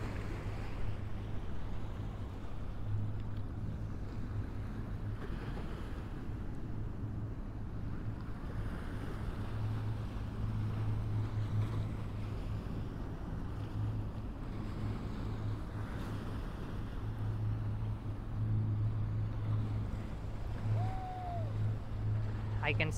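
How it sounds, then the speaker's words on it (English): Water lapping near the Brooklyn Bridge in New York City, a soft, steady wash with wind noise on the microphone and a low background hum, fairly faint throughout. "The sound of these waves really makes this place unique and relaxing."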